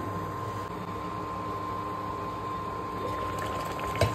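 Pabda fish curry gravy bubbles in a covered pan, a steady, even hiss of boiling liquid with a faint tonal hum, continuous and unbroken.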